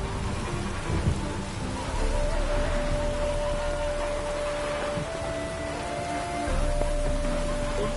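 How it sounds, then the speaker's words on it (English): Steady rain pours in the video game The Witcher 3, a dense hiss of falling water with low rumbling underneath and a faint sustained tone, continuous throughout with no voices. "Rain again."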